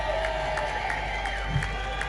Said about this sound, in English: Give a massive round of applause to my friend and your friend